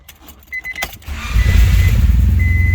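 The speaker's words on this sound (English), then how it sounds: "we're gonna turn the car on, just like normal" A Honda Del Sol engine cranks and catches after a few light clicks and rattles, then settles into a steady, close idle rumble.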